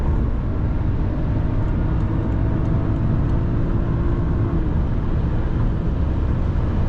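Inside a 2011 BMW 535i with 306 horsepower accelerating hard from 100 to 200 km/h on a highway, a constant loud roar of engine, tyres and wind fills the cabin without a break.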